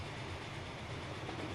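Trains running on rails in the video game Transport Fever during a race, heard as a faint, steady low rumble and rolling drone that continues evenly throughout without clear breaks.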